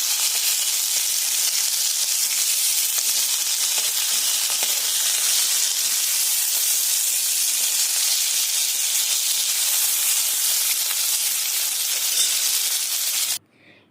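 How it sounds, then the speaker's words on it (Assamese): River sole fish frying hard in hot oil in a pan, a steady loud sizzle and hiss that runs unbroken before cutting off abruptly near the end. "এতিয়া জাষ্ট মাছখিনি অলপ টানকৈ ফ্ৰাই কৰা হ'ব।"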